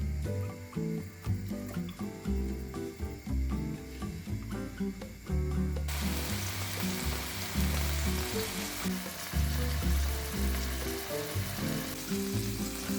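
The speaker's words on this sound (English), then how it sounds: "Place the pork in a hot frying pan." Pork tenderloin fries loudly in a hot pan with vegetable oil, a dense continuous sizzle that grows brighter and stronger partway through, with no voices.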